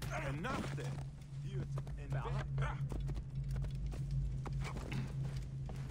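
Horse hooves clip-clop at a steady walking rhythm in Assassin's Creed Origins while someone talks over them.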